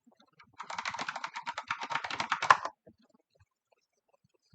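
Fast, close keystrokes clatter on a computer keyboard in one burst of about two seconds, then stop, leaving near silence.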